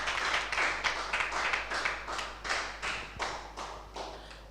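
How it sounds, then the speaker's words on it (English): An audience claps at a book reading event during the LABAF 2024 festival, a fairly faint, steady round of applause with clearly separated hand claps, heard at a distance and without speech. "A round of applause for him again."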